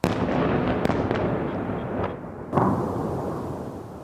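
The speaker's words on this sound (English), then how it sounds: "Explosions in Kyiv," Explosions in Kyiv during Russian missile and aerial attacks: a heavy blast followed by a long rumbling roll, then a second booming hit with echoing decay, heard from a distance.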